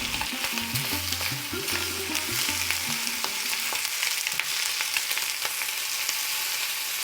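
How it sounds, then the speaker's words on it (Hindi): Finely chopped garlic sizzles in hot desi ghee in a small tempering pan, a steady bright frying hiss with stirring clinks throughout, close and alone with no talk. "एक टेम्परिंग पैन लें, उसमें डाल दें 1 छोटा चम्मच देसी घी। घी के गर्म होने पर डाल दें बारीक कटा हुआ लहसुन,"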